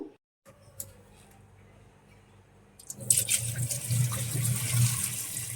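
After a quiet start, water suddenly pours and splashes steadily as soaked mung beans are drained through a colander for the last few seconds.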